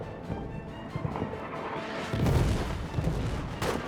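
Distant artillery fire in a WWI trench warfare game, low booms and rumbling blasts rolling under a dense battlefield din, with a heavier, louder impact near the middle.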